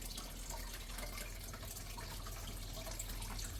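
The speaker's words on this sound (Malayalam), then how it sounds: "എന്നിട്ട് നമുക്ക് ഇതിനകത്തേക്ക് വെള്ളം ഒഴിക്കാം." Water poured into a home planted aquarium, a steady broadband splashing and trickling that runs without a break, moderately quiet and close, with no voices.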